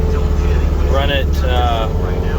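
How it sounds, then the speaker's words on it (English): A Jenkins stump grinder mounted on a John Deere 325 drones with a steady, close, low mechanical rumble, while someone talks over it. "Jenkins Stump grinder."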